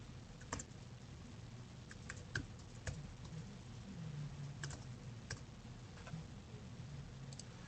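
Quiet typing on a computer keyboard, with scattered light key taps over a steady low background hum, with no voices.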